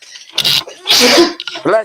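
A single loud sneeze erupts close by, built up from a short intake and followed by brief voiced sounds.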